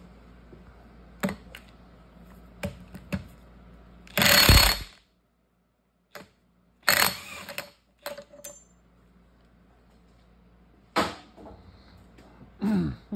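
A socket ratchet works off the main shaft nut on an NV5600 transmission, giving several short, loud mechanical bursts separated by quiet gaps, with faint clicks in between.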